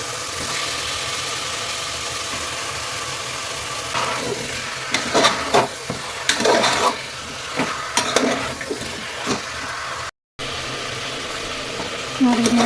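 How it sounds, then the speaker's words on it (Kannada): Chicken masala frying in oil in a pan for a village-style country chicken curry, a steady close sizzle with scattered stirring scrapes and clinks partway through. "ಇದು ಚೆನ್ನಾಗಿ ಫ್ರೈ ಆಗಿ ಎಣ್ಣೆ ಬಿಟ್ಕೋಬೇಕು. ಅಲ್ಲಿ ತನಕ ಇದನ್ನು ಚೆನ್ನಾಗಿ ಫ್ರೈ ಮಾಡ್ಕೊಳ್ಳೋಣ"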